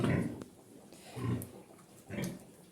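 Pigs on a farm, sows with young piglets, grunting close by in three loud, rough bursts separated by short pauses.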